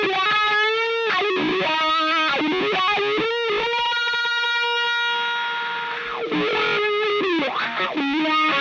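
Electric guitar through a fuzz pedal, thick distorted chords and sustained notes ringing with rich buzzing overtones, strummed in bursts with a long held chord in the middle, loud and alone.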